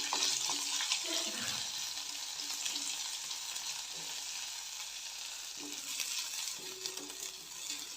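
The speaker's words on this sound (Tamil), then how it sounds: "பொரிஞ்சதும் 2 மீடியம் சைஸ் வெங்காயம் கட் பண்ணி சேர்த்துட்டு லைட்டாக வதக்கிக்கலாம்." Two medium onions, cut and added to oil after whole spices have crackled, sauté lightly for an idli and dosa kuruma; a continuous close sizzle with occasional stirring scrapes, no voices.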